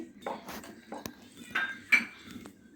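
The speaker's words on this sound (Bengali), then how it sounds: "এইগুলো দিয়ে আগে একটু ভালো করে মিশিয়ে নিচ্ছি।" Paneer tikka ingredients and small onions being mixed in a bowl, heard as close, irregular clinks and knocks of a utensil against the dish with short scraping pauses between them.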